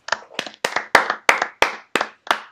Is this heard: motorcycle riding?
no